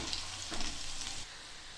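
Potatoes for dum aloo sizzle and crackle steadily in hot oil as they fry toward medium golden, a close, continuous frying hiss.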